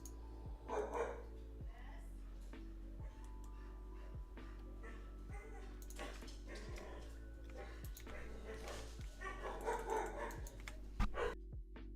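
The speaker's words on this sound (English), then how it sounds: "there goes my dog" Dog barking in a home, short sharp barks and yips repeating at a distance beneath a steady electrical hum, with a voice speaking in between.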